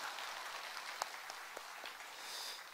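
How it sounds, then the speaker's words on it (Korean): A church congregation applauds, a steady, faint, hiss-like wash of many hands clapping in a large room, with a few sharper individual claps standing out. "우리 간증 축복의 박수 하겠습니다."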